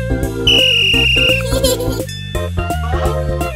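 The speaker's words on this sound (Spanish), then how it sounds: "Tiene un silbato." A traffic-police whistle is blown in the Pocoyo cartoon: one sustained, shrill blast set against bouncy cartoon music and sound effects.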